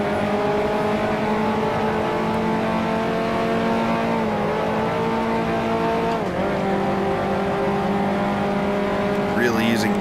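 Heavy historic race cars roar around a race track, engines droning loud and steady with shifting pitch as they drive past, one tone dipping briefly mid-way.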